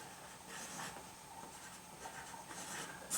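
Pencil scratching faintly across paper while writing numbers on a sudoku puzzle, a soft continuous close-up scribble with a few quick strokes and no talk.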